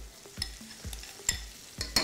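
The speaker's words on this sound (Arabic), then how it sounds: "انا ضربت الزبادي هنزله على النار كده نزل عمل تش" Whipped yogurt poured into a hot pan for yogurt kofta, giving short sizzles with soft stirring clicks in a loose repeating rhythm, quiet and close, with no talking.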